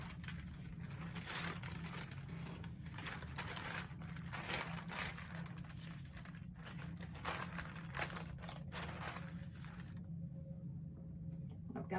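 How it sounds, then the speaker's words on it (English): Parchment paper is handled during a craft project, making soft, intermittent crinkles and rustles, close and fairly quiet, with no talk. "let's get our parchment paper."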